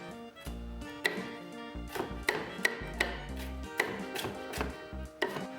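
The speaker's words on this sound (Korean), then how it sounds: "홍 파프리카 4분의 1개도 채 썰어주세요." A knife cutting a quarter of a red bell pepper into thin strips on a board, a quick series of crisp, irregular taps close up over soft background music.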